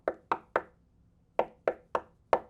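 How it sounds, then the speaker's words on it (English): Knuckle knocks on the MDF cabinet of an SVS Ultra Evolution Pinnacle speaker, three quick raps, a pause, then four more, each a dull, solid, close thud with no talk. "If you give the speaker a good knock test,"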